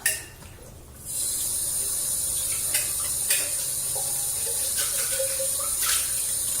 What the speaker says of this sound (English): Coffee kind of things I usually just rinse out a bit because the only thing going in there is coffee.